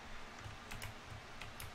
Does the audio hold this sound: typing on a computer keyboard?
yes